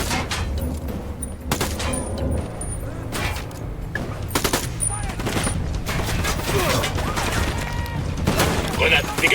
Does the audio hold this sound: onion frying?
no